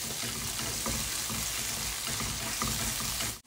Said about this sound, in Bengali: পেঁয়াজটা হয়ে গেছে, এখন আমি হলুদ গুঁড়া, মরিচ গুঁড়া, ধনিয়ার গুঁড়া, জিরা গুঁড়া দিয়ে দিব